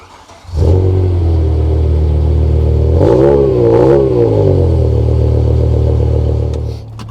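BMW M5 E60 engine started and revved, a sudden loud ignition settling into a deep idle, then two rising and falling revs before easing back, heard close and on its own.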